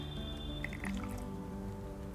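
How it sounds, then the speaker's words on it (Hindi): Water poured into a bowl of chili mixture for Rajasthani garlic chutney, heard as a few soft, close drips and splashes against a quiet background. "इसमें थोड़ा सा पानी और लेके आधी कटोरी के लमसम लेके इसको अच्छे से इसको हिला के इसके अंदर डाल देना है"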